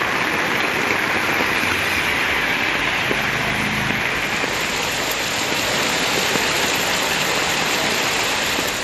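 Heavy northeast monsoon rain falling in Tamil Nadu: a dense, steady roaring downpour that holds at full strength for the whole stretch, with no voices.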